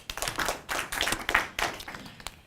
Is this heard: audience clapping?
yes